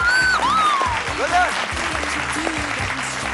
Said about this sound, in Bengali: জোরে হাততালি সবাই মিলে